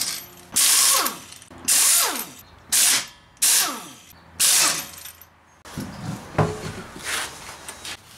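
A power tool spins the wheel fasteners off a 2012 Mazda Speed3 in five sharp ratcheting bursts, then a looser rattling run, all close and loud with no talk.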